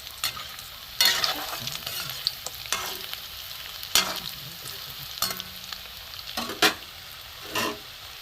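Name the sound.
katla fish balls frying in a pan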